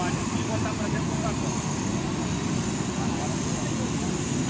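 A Brazilian Army helicopter's rotor and engine drone continuously nearby, a loud, dense rumble that holds steady throughout.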